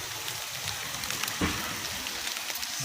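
Steady rain patters down on an outdoor street in Jakarta where ondel-ondel giant puppets stand soaked, a dense wash of drops on hard surfaces with no voices.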